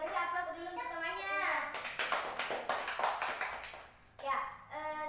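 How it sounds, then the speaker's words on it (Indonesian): Classroom applause for a student group that has just presented on the heart: a burst of many hands clapping in the middle, after a voice speaks, with voices returning near the end. "Jadi beri aplaus dulu untuk temannya."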